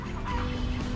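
A farm chicken clucking close by in a rural yard, a steady low murmur of soft clucks with a faint hum behind, no talk.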